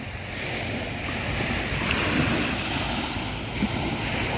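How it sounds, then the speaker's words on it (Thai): Evening sea waves wash onto a Thai beach with a steady, broad rush of surf, and wind buffets the microphone throughout. No voices. "นี่ก็คือความสวยงามของทะเลตอนค่ำๆนะครับ"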